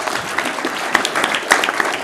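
Audience members at a city commission meeting clap in a dense, steady round of applause, close and fairly loud, with a few sharper claps standing out.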